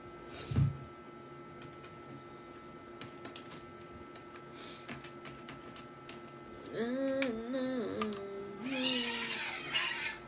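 A cat meows several times, with a sharp cry near the start and a drawn-out, wavering meow later, amid quiet indoor clicks and taps and faint background talk.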